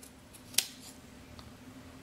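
A single sharp snip of scissors cutting apart tangled pea seedlings, set against a quiet indoor background with a low hum, followed by a faint second click.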